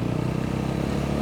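A 2020 TVS Apache RTR 200 BS6 motorcycle under way, its engine a steady, close droning hum with a fine rapid pulse, held at constant pitch for a brief stretch without speech.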